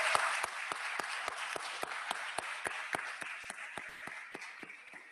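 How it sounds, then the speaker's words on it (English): An audience at a county board of commissioners meeting applauds, with sharp, evenly spaced claps standing out over a steady wash of clapping hands that holds at a moderate level throughout. "Give her a round of applause."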